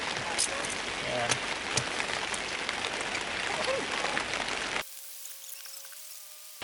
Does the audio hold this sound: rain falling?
yes